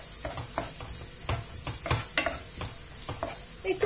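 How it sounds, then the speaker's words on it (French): Onion and shallot sauté in a pan, a soft, close sizzle broken by frequent rhythmic scrapes and taps of a utensil stirring them around. "Et je vais commencer par mettre l'oignon et l'échalote. Je vais faire revenir un petit peu."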